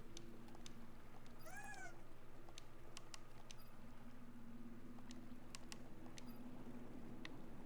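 In the video game One Lonely Outpost, a kitten gives one short, high meow early on, set faintly against a steady low ambient hum and scattered clicks.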